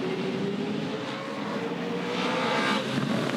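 A Supercars race car at the Bathurst 1000 comes off the top of the hill on the final lap, a steady broadband engine and road roar that holds loud throughout without a pause.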